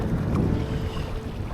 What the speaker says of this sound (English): it's ever so windy around here, as you can hear